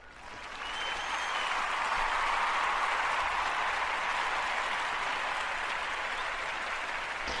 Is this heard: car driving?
no